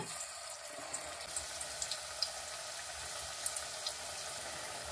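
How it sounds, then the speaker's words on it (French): Wild garlic fritters frying in 2–3 cm of hot sunflower oil, giving a steady quiet bubbling sizzle with a few small pops scattered across it, no voices. "Dans l'huile bien chaude, vous mettez vos beignets"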